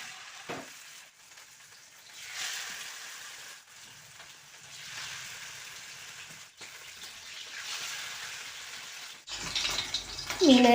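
Fish coated in green masala frying in a pan gives a steady soft sizzle, close and moderate in level, with a brief louder clatter near the end.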